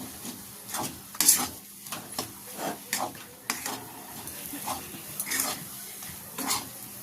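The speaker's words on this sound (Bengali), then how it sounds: "দেখুন এইভাবে নাড়াচাড়া করে সবগুলো মিশিয়ে নিয়েছি" Pea kachori filling is stirred and mixed in a pan, with irregular scraping and clinking strokes of a utensil against metal over a soft background sizzle, close and moderately loud.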